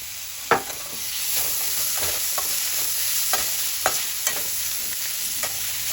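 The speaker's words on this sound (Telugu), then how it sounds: "ఇప్పుడు అవి బాగా వేగాక టమోటా వేసాము" Onion and tomato fry in a pan with a constant soft sizzle, while a spoon stirs and taps against the metal in irregular, fairly close strokes.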